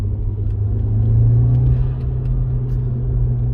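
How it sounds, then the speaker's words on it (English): Gear recirculation noise in a 2004 Audi B6 A4 1.8T Quattro with a six-speed manual and custom cold air intake: a loud, steady low drone and rumble from inside the car, with a faint whine on top. "Just some recirculation from the gears. It's just pretty loud."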